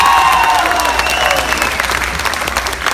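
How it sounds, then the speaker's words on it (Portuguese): A concert audience applauds for a performer, sustained clapping spread evenly throughout, with sliding tonal sounds over it, likely voices or instruments, gradually fading a little toward the end. "As nossas palmas e o nosso carinho para esse angolano fantástico,"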